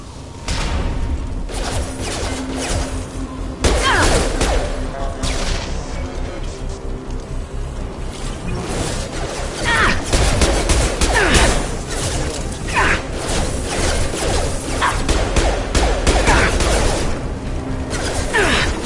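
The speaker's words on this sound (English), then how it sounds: "Taking heavy fire!" Security mechs in Mass Effect 2 fire on the player in a dense, continuous combat mix, with repeated sharp shots, whooshes and crashing impacts sustained over the whole stretch and loud throughout.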